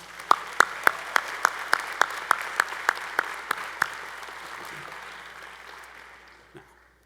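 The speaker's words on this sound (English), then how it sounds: "Let's give President Thomas another round of applause" Convocation audience applauding the university president, a dense wash of clapping with a few loud, sharp claps standing out near the front, then slowly thinning and fading away.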